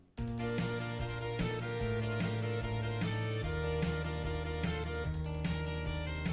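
Arranged music plays continuously: a bass line doubled by an alto sax an octave higher, a steady layered melodic pattern with rhythmic accents, and no voices.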